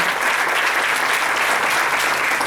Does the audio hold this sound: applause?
yes